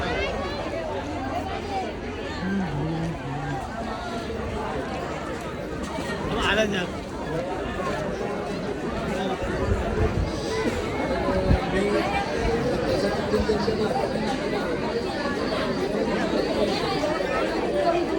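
A crowd of pilgrims on the Shri Varadvinayak dindi procession on foot, from Moho to Mahad, fills the air with steady, close chatter: many overlapping voices murmur and talk at once with no single voice standing out.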